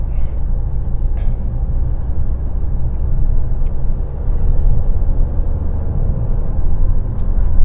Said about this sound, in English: You can see the instant pickup that the car takes.